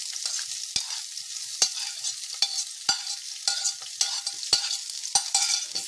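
Onions with green and red peppers fry in a pan, a bright crackling sizzle punctuated by regular sharp scrapes and taps of a spatula stirring the vegetables every second or so.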